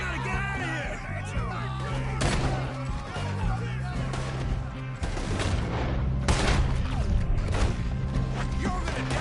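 Gunfire in the Red Dead Redemption 2 video game, loud repeated shots and bangs over a dense mix of music and chaotic game sound, with voices shouting in between.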